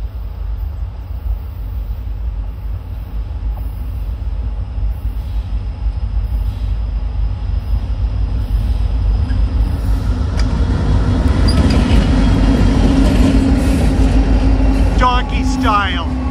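A Pan Am freight train rumbles past close by in Baldwinville, a steady heavy roar of rolling wheels that grows louder, with some squealing and clatter near the end.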